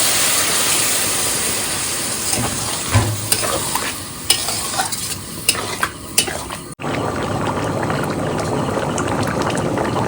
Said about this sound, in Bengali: মশলা হয়ে গেছে এবার জলটা দিচ্ছি